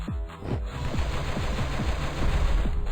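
Rapid automatic gunfire from a Flash shooting game, a run-and-gun boss fight, rattling steadily over game music at close, loud level for the full stretch.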